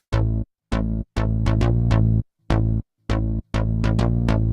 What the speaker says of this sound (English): very funky, very electronic bass sound going on